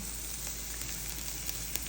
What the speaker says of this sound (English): We are caramelizing the onions here, and first we cook them in olive oil and butter